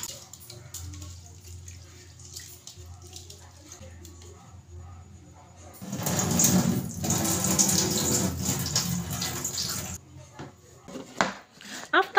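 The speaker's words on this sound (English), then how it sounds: "Make sure to wash it thoroughly with clean water." Rice being washed in clean water, a half cup rinsed and swirled by hand; a loud, steady burst of running, splashing water in the middle stretch, with quieter handling before and after.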